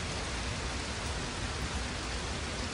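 Dense, steady rain roars without a break, a loud, even wash of noise filling the whole clip with no voices.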